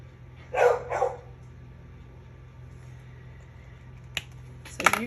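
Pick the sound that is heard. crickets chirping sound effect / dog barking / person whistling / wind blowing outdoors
dog barking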